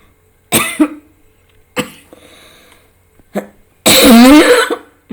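Several harsh coughs close to the microphone, separated by short pauses, the last one longer and raspier.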